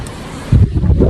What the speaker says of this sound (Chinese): 哇，风好大！